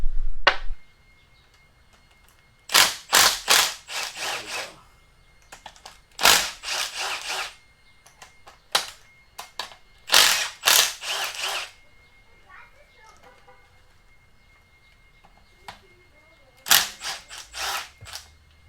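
Ratchet loosening bolts on the heads of an LS 6.0 engine during a teardown, heard as several sharp, bright ratcheting bursts separated by quiet gaps.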